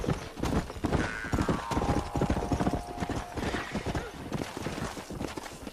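In the video game Red Dead Redemption, steady rhythmic hoofbeats of a horse trotting, close and prominent, with a horse whinny and people talking over it.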